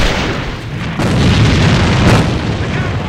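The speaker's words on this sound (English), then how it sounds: "Lots of smokes, lots of nades coming out." Grenades blasting in the online shooter AVA during an esports cup semifinal match, a dense run of deep booms and rumbling bursts that swell midway and roll on loud and continuous for several seconds.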